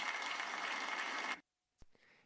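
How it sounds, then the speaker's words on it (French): Audience applause for Danish football captain Simon Kjær at a sports ceremony, a dense burst of many clapping hands that cuts off abruptly after about a second and a half, followed by silence and a faint knock. "Mesdames et messieurs, applaudissez le capitaine danois,"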